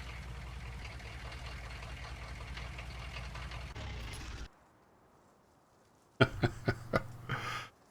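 A struggling tractor engine in Farming Simulator 19 runs with a loud, dense knocking rumble for about four seconds, cuts to near silence, then returns as a few sharp clattering knocks and a short mechanical burst.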